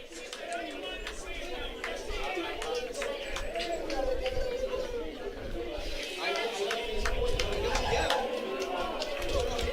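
Baseball crowd at a Hamilton ballpark, a steady busy murmur of many voices and chatter that swells and grows louder toward the end, with scattered sharp knocks and talk mixed throughout.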